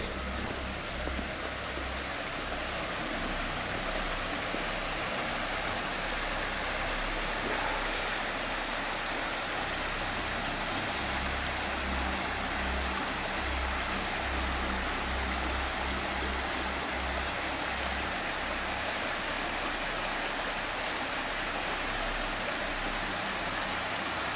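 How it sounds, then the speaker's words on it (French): A stream runs steadily at night, a continuous broadband rush of flowing water, close and unbroken for the whole stretch with no voices. "le son du ruisseau va pas trop nous perturber"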